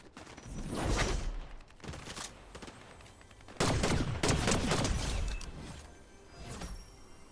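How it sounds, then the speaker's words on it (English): Gunfire in the Blitz Royale battle royale game: loud, rapid bursts of shots in several clusters with brief gaps between them. "Somebody else shot at them."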